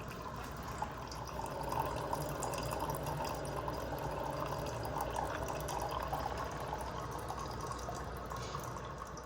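A home coffee maker brewing, giving a continuous low trickle and gurgle of liquid that runs steadily, near and moderately quiet, with no voices.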